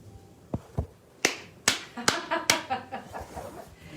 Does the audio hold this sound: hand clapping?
yes